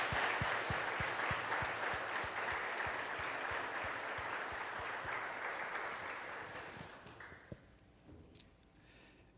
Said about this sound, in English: how about a big round of applause for their contribution?